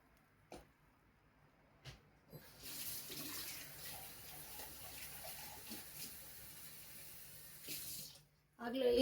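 Water runs into a pot of South Indian tomato saaru (rasam) as it cooks, first with a few faint clicks and knocks, then a steady gushing flow for several seconds before a sharp stop.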